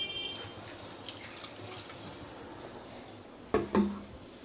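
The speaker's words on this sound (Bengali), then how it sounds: "সামান্য জল দিয়ে রাখবো।" A little water poured into a katla fish steaming dish with spice paste: a low, quiet background, then two brief, close splashing trickles near the end.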